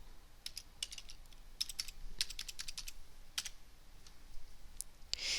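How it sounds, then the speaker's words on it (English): Someone types a number on a computer keyboard, giving a quiet, uneven run of close, crisp key clicks with short pauses and a final firmer keystroke, with no talk. "done business with Wendell Ottery before, so I'll just type in his social security number and hit the Tab key"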